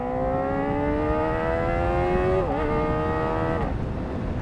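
Kawasaki ZX-4RR motorcycle engine revving hard, a loud, high-pitched rising wail that climbs steadily, dips briefly and climbs again before dropping off near the end, close by.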